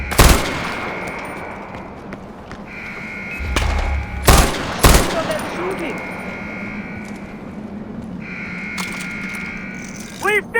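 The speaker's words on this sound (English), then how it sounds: "They're shooting!" Gunfire from a battle in the video game Far Cry 4, with a few loud, close bursts of shots amid steady background noise, while voices talk over it.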